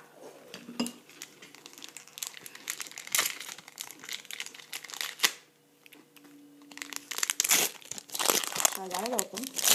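Pokémon Primal Clash booster pack foil wrapper being crinkled and torn open up close, with crackling, rustling bursts over several seconds and a voice talking at the end.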